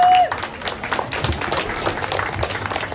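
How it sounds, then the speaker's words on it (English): A church congregation applauds the custodial staff at Immanuel Presbyterian Church, with a steady wash of many hands clapping throughout and a short voice at the very start. "please give a round of applause"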